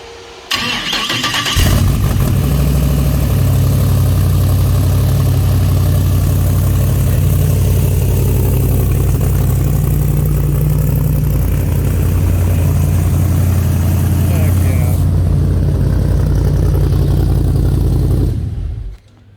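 A rock bouncer off-road vehicle with a stroker V8 engine cranks, fires up and settles into a loud, steady, rumbling idle that runs close by and uninterrupted for most of the clip before cutting off, with no voices.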